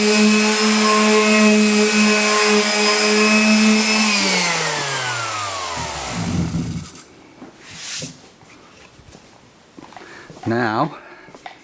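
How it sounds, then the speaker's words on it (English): A power sander runs on the top of a wooden playset, a loud steady motor whine that winds down in pitch to a stop, followed by brief scraping and voices talking. "Now I'm gonna come over here, sand that top off."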